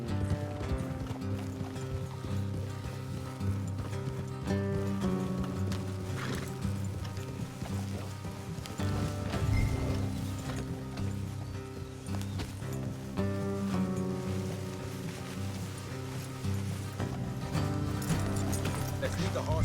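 Horses' hooves clop in a steady rhythmic gallop along a road in Red Dead Redemption 2, continuous under a dense mix of game music and ambience.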